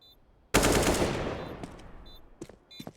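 A sudden loud burst of AK rifle fire rings out in a Counter-Strike match on the Train map, decaying over a second or two, followed by a few fainter scattered shots and game effects.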